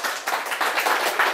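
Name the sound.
audience applause welcoming a speaker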